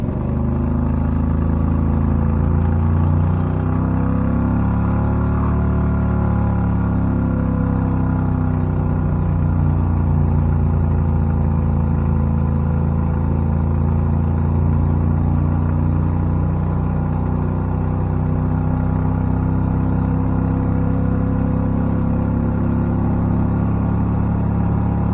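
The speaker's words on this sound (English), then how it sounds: "we validate our work with the 0 to 55 acceleration test" A Renault powered by a 670cc Predator engine accelerates in third gear during a 0 to 55 test, a loud continuous engine drone and whir rising slowly in pitch over about twenty-five seconds, no voices.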